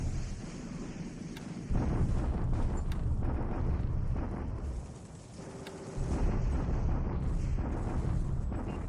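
Bombardment explosions from a War in the Pacific: Admiral Edition battle, August 1942, heard as rumbling, roaring bursts with deep booms rising and falling across a steady noisy wash, loud and sustained with a short lull midway.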